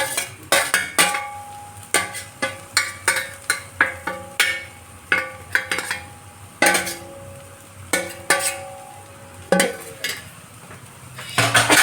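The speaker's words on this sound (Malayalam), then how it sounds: "തേങ്ങ നമ്മൾ നന്നായിട്ട് ഇതിനകത്ത് മിക്സ് ചെയ്തിട്ടുണ്ട്" Spoon scraping and clinking steadily against a pan as grated coconut is mixed into a prawn dish, rhythmic metallic taps and knocks close up, with no voices.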